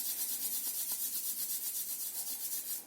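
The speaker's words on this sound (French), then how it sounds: "D'abord, frotte les mains" Two hands rub briskly together in a rhythmic back-and-forth, a soft, close, dry swishing friction repeated many times with no talk.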